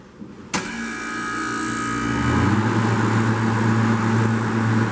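A refrigeration compressor in a flooded start kicks on with a sharp click, then builds into a steady, loud mechanical hum and drone that grows heavier and continues without pause.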